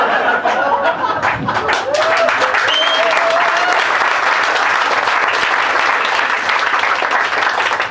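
A stand-up comedy crowd in Switzerland bursts into loud, sustained applause, with chuckles, laughter and a few voices mixed into the clapping.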